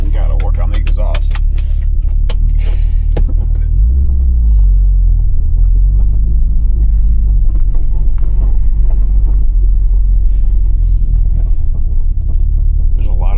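An Audi S6 Avant engine with exhaust leaks runs loud and close, giving a heavy, continuous rumble with a brief rise and fall in revs partway through, with voices in the background.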